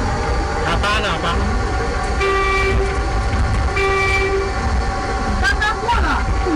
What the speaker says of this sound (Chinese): 喇叭，喇叭。